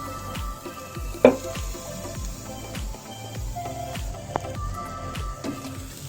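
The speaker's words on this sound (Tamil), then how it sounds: "சிக்கனை பேனில் வச்சுக்கோங்க. ஆயில் எதுவும் ஆட் பண்ண வேண்டாம், க்ளோஸ் பண்ணி வச்சுருங்க." Chicken frying in a covered pan with no oil added, giving a steady soft sizzle with occasional clicks and light knocks throughout.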